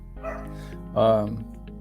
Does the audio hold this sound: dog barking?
yes